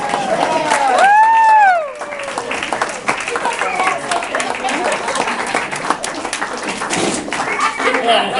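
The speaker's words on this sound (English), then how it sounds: "Let's give one more round of applause for all these awesome folks" An audience applauds at a musical performance. Dense clapping runs throughout, with a rising whoop or cheer early on and scattered voices and laughter mixed into the crowd noise.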